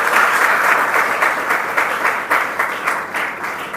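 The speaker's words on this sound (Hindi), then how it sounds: "एक बार इस बेटी के लिए तालियां बजाएं सभी" Loud, close applause from an audience of school pupils clapping for a schoolgirl at a school event, a dense crackling wash of hands that swells in pulses and holds throughout.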